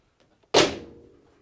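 A Porsche 911 door swings shut against its latches, giving one sharp solid slam with a short decaying ring, close and alone after near silence.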